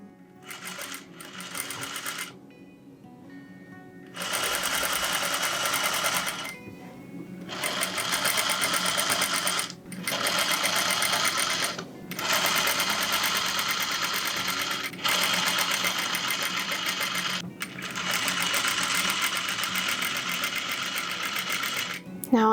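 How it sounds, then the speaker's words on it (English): Sewing machine running up the side seams of a full-length dress, a steady close mechanical whirr in long sustained runs broken by short pauses and a brief start-stop at the beginning. "So go ahead and sew down that side out of 1-inch seam allowance and this side"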